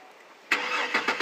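A 2004 Buick Rainier CXL in need of a tune-up starts after a brief quiet moment: the starter cranks, then the engine catches with a sudden roar and a few rough, uneven surges.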